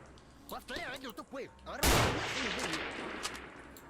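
A single loud, close gunshot rings out in the game Stalker: The Way to Pripyat, followed by a short echoing tail; someone talks before and after it.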